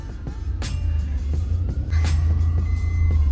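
Road traffic stuck in a jam on a Delhi highway near the Karnal bypass, a steady loud low rumble of engines with occasional passing vehicle swells and clicks, no talking.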